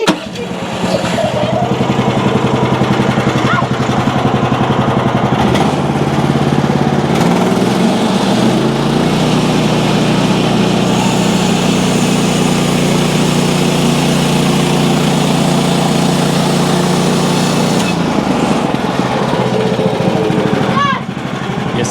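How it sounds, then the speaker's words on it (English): Loud, continuous roar of a wood chipper engine running close by outdoors, rising in pitch and load partway through, with voices faintly underneath. "We run these through the chipper."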